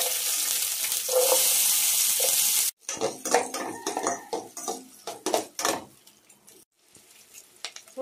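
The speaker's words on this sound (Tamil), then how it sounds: "இப்போ வந்து எண்ணெய் நல்லா ஹீட் ஆயிடுச்சு, நம்ம வெந்தயம் சேர்த்துக்கலாம். வெந்தயம் பொரிச்சிருச்சு" Fenugreek seeds fry in hot oil with a loud, bright sizzle for a few seconds. It then gives way to clattering stirring and pan knocks that fade toward quiet.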